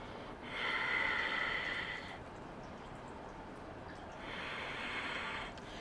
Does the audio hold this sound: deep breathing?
yes